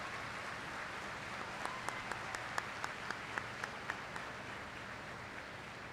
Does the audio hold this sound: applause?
yes